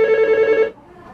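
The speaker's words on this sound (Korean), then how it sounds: "업무를 시작하기 무섭게 전화벨이 울려대기 시작한다." An office telephone rings once up close with a loud, steady electronic bell tone that cuts off sharply, leaving quiet room noise behind.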